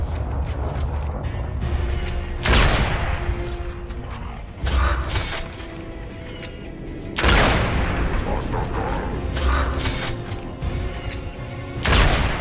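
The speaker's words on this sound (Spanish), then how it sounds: "¡Buen disparo, señor!" Bursts of gunfire from the Gears of War 2 video game, with heavy loud volleys separated by mechanical clanks and quieter stretches, under in-game voices speaking Spanish.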